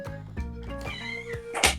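An indoor cat meows repeatedly to be let out of a room, several drawn-out, wavering cries in a loose sequence, fairly close and clear with no talk over them.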